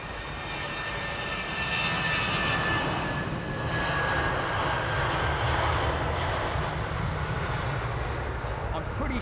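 Airliner touching down in fog at London Heathrow, its engines a loud, sustained roar that swells slightly mid-way and stays broad and close, with a thin whine fading in and out above it and no voices.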